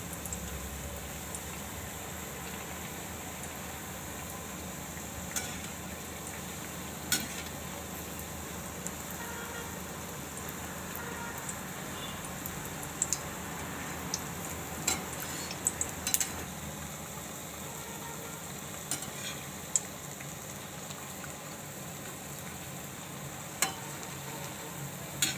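Bitter gourd (karela) fritters fry in hot oil with a continuous soft sizzle, broken by occasional scraping clicks as the pieces are turned.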